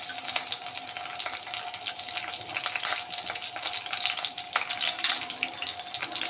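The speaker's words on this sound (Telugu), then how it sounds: "నేను తాలింపు గింజలు కరివేపాకు వేస్తున్నాను" Tempering seeds and curry leaves crackle and spit in two spoons of hot oil for a Telugu tomato curry, a steady close sizzle with scattered pops and a brief burst of spattering, no talk.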